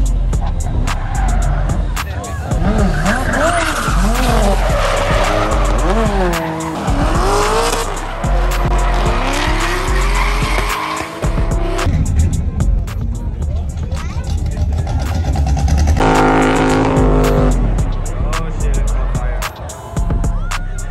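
A car drifting in Doha, Qatar, its tires squealing and skidding loudly over a roaring engine for a sustained stretch, with voices talking throughout.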